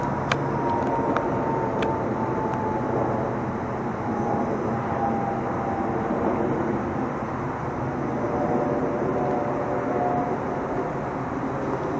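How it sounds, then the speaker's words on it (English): A jet aircraft passes overhead in Oakland, a steady, broad roar with a slowly falling whine that holds throughout. "here's a jet just for reference"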